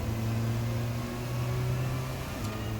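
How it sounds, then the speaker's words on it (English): Turbocharger spooling up on the Formula RSS 4 2024 race car in a racing simulator, a whirring whine layered over a steady, droning engine hum with gently shifting pitch, close and continuous. "We hear the turbocharger spooling up."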